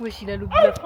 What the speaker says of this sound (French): Ah, mais non, c'est un chien.